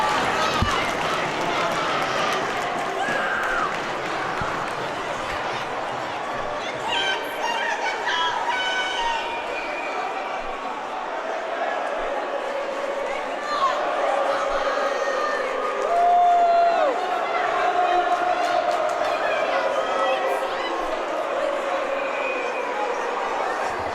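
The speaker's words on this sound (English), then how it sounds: "now they're clapping and getting loud for him" A crowd at a high school hockey playoff game in a rink applauds and cheers, building into a sustained wash of clapping and shouting. A commentator talks over it throughout.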